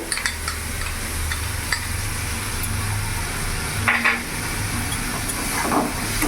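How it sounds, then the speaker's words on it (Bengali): Ginger, garlic and chili paste fries in a pan for a rohu fish kalia and gives a steady close sizzle and hiss, with a few scraping stirs and clinks of the spoon against the pan. "এবার ভালো করে নাড়াচাড়া করে নেব।"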